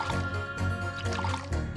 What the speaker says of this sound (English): She's like pouring the coffee.